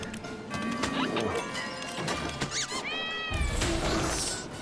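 A cat companion in the video game Don't Die, Minerva! meows in a few short rising and falling cries, clear and fairly close, over steady game ambience with a thud partway through.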